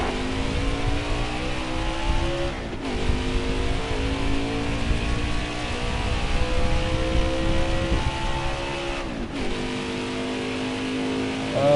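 A race car engine in a racing video game, its car carrying a Hooters and Corvette Parts.net paint scheme, revs loud and steady throughout, with harmonic pitch sweeps dropping briefly near 3 and 9 seconds as gears shift.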